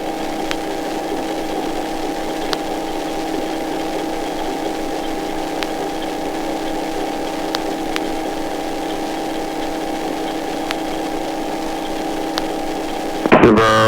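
A small aircraft's piston engine idles steadily on the ground while cooling down, a loud, even drone with faint periodic ticks, holding for the whole stretch before a brief louder burst at the end.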